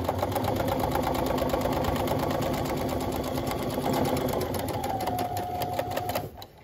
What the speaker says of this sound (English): Put my presser foot back down and then continue sewing.